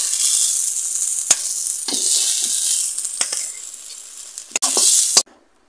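Note shak leafy greens fry in a pan with a loud, bright, hissing sizzle, interrupted by a few sharp clinks and stirring scrapes before the sound cuts off abruptly near the end.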